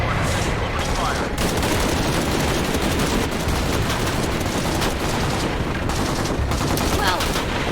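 Sustained heavy gunfire and bursts of automatic fire in the video game Shadow of the Tomb Raider, loud and dense throughout, with a voice heard through the din.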